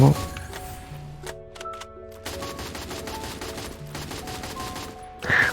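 Rapid automatic gunfire in Free Fire, fast even bursts of shots stopping and starting, moderately loud beneath nearby voices talking and reacting throughout.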